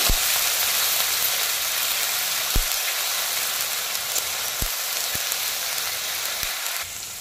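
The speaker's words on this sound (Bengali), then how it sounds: "1 চামচ পেঁয়াজ বাটা নিয়েছি। পেঁয়াজটাকে একটু ভেজে নেব।" Onion paste frying in oil for a spiced eggplant dish, a steady close hiss and crackle with a few sharp clicks scattered through it.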